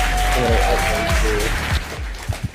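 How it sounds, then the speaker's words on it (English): Applause at a webinar event, with voices talking and some pitched tones over it, thinning toward the end into a few scattered louder claps or thumps. "please give a big round of applause for Swaroon Sridhar"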